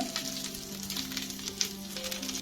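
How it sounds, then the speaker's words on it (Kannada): Green chillies frying in a hot pan for mint chutney, a close steady crackling sizzle with occasional stirring and no talk. "ಹಸಿಮೆಣಸಿನ್ಕಾಯಿ ಹಾಕೊಂಡು ಫ್ರೈ ಮಾಡ್ಕೋಬೇಕು."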